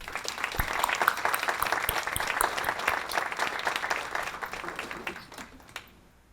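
Sustained audience applause at a VA healthcare awards and recognition ceremony, dense and steady clapping from a room of people that tapers off near the end.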